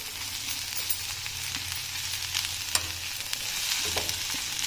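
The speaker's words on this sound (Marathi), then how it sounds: "बटाटे अगोदर तळून घ्यायचे" Potatoes fry in a pan with a continuous close, steady sizzling hiss and a few faint scrapes of stirring, with no voices.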